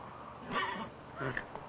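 Roach, the horse in The Witcher 3, gives two faint, soft neighs in quick succession with a light trotting rhythm underneath, heard alone at low volume.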